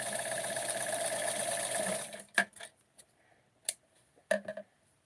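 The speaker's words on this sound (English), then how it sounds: "for this one I am going to sew very close to the edge" A sewing machine runs a steady straight stitch on small Barbie doll clothes for about two seconds, then stops; a few short clicks and taps of handling follow, close and fairly quiet.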